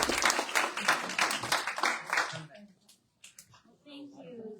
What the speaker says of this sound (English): If you guys can give her a big round of applause and welcome her.